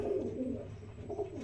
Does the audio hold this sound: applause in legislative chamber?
no